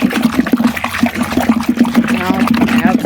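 Sulfonic acid and Texapon liquid soap ingredients being poured and mixed in a big bowl, giving a steady rhythmic sloshing and splashing, with a person talking over it.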